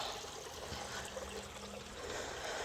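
Water trickling from a garden pond's waterfall filter in a backyard, a soft, steady, faint splashing wash with no speech.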